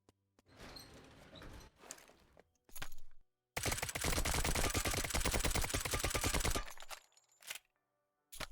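Weapon gunfire on a firing range in the game Lost Light, heard as a few short bursts and then a long, loud, rapid automatic burst of evenly spaced shots with sudden stops, close and without talk.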